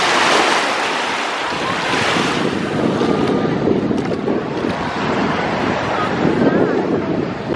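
Sea waves washing onto a sandy beach with clear water, a steady loud roar of surf mixed with heavy wind buffeting the microphone.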